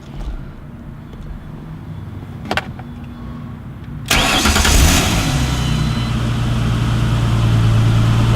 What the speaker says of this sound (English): then you can go ahead and start the vehicle.